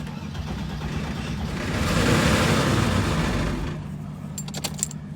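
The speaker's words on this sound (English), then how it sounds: "Well, the engine certainly turns over." A Mercedes R107 engine cranks steadily for a few seconds, a rough mechanical churning that swells then stops, followed by a few faint clicks.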